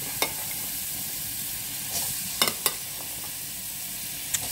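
Food frying in a pan for fried rice, a steady close sizzle with a few sharp clicks and stirring taps, with no talking.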